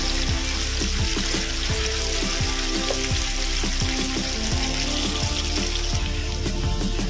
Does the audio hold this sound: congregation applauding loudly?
no